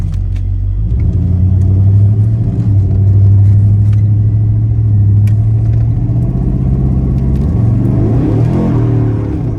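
A 1978 Chevrolet El Camino SS with an LS engine and four-speed automatic pulls away at about half throttle, its steady loud exhaust rumble holding close and rising in pitch near the end, with no talk.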